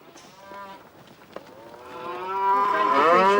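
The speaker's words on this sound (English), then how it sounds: "Sounds as if the cows are here already." Cows moo in long, low, drawn-out calls that swell in loudness toward the end, close and clear with no talking over them.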